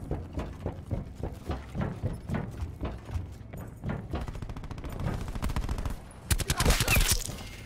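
Video game gunfire from Call of Duty Black Ops 4, with rapid repeated shots in bursts, fairly loud and close, rising into a denser, sharper volley near the end.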